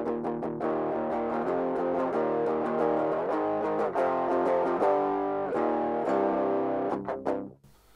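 Metal electric guitar played through a POD Farm 2 screamer drive with gain around 40 and tone at 60, giving sustained distorted chords and riffs that ring loudly throughout, then cut off abruptly near the end.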